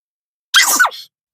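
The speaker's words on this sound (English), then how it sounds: "I have to sneeze." A single sharp sneeze, close and loud, a quick burst of breath and voice lasting about half a second, with silence before and after.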